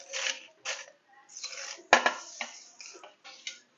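Ingredients for an onion chutney, among them coriander, tamarind, garlic, jaggery and salt, dropped and tapped into a steel mixer jar, producing a series of close, irregular clinks and clatters with short quiet gaps between them.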